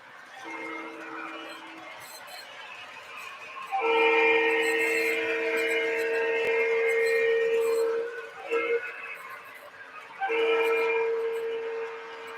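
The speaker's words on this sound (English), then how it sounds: "It's probably one of my favorite sounding diesels in the collection." A model Alco diesel locomotive running on track, its onboard sound giving a steady engine drone with loud, sustained horn blasts that rise and break off, heard close and fairly loud.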